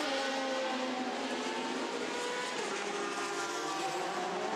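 A Ferrari race car engine at the 24 Hours of Le Mans, a steady high-pitched roar held at constant volume throughout, with no speech.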